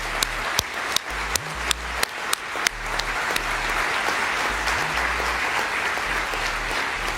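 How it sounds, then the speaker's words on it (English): Audience applause at a human rights defender award ceremony, a dense sustained wash of clapping with a few sharp, louder claps standing out at the start, and a low steady hum underneath. "please join me in one more robust round of applause for all of our phenomenal awardees"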